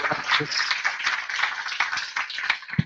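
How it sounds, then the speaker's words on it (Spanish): A conference audience claps for a speaker, giving dense, steady applause that stays moderately loud and close across the short stretch, with some voices mixed in. "démosles un fuerte aplauso a José Paz"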